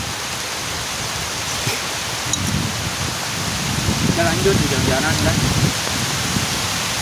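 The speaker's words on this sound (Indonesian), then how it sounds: "Hujan makin gede, kita akhiri." Heavy rain pouring outdoors during a snail-eating mukbang, a dense steady hiss of rainfall filling the scene, with people talking over it.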